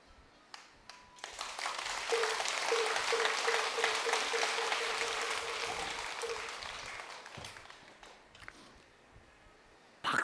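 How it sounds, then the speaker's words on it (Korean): Applause from an audience gathered for a Buddhist dharma talk at a temple, rising to a dense, sustained clatter of many hands for several seconds before thinning out, with no voices over it. "박수도 생각 없이 싹 나와야지."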